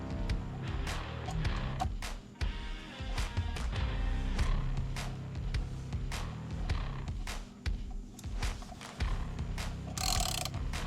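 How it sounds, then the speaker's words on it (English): A wrench works the front bolts of a Molecule Motorsports skid plate, giving a run of quick ratcheting clicks and light metallic knocks, close and fairly quiet, with no talking. "let's get those front bolts tight"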